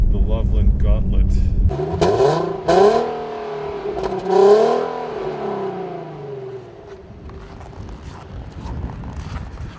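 A 2014 Infiniti Q60 with AWD accelerating uphill on a snowy mountain road, its quiet engine note rising and falling in pitch beneath someone talking over it.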